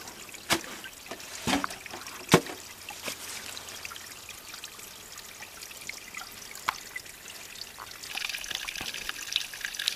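A mountain spring trickles at a backcountry campsite. The faint, steady water flow carries scattered sharp drips and splashes, and the trickle grows a little fuller near the end.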